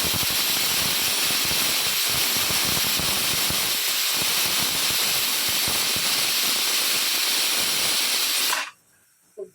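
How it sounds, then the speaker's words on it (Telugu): A pressure cooker boiling chickpeas on a stove vents a loud, continuous jet of hissing steam for nearly nine seconds, then drops away sharply to near quiet. "కుక్కర్ మూత పెట్టుకుని త్రీ విజిల్స్ వచ్చేంత వరకు ఉడకబెట్టుకోవాలి"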